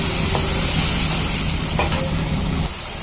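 A spice paste of garlic, dried and green chillies, cumin, garam masala and tomato fries in a pan with a steady, dense sizzle and a few light stirring clinks, and the hiss eases slightly near the end.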